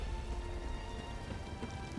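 Steady rain in Elder Scrolls Online at Shattered Shoals, a dense continuous patter of drops on surfaces with a low rumble underneath, even and unbroken, no talking.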